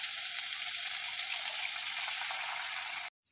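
Oil heating in a wok for a fried pumpkin, onion and garlic dish: a steady, loud hiss of sizzling oil runs unbroken for about three seconds, then cuts off abruptly into silence.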